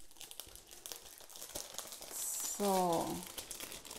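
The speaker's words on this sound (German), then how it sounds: "Einmal von oben und auch von der Seite die Folie abziehen." Plastic film is peeled from the top and sides of a fondant-covered cake, making close, soft crinkling and rustling. A brief tearing crackle comes near the end, and a voice speaks quietly in the background.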